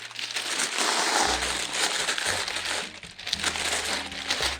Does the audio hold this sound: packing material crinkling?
yes